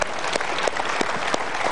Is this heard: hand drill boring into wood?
no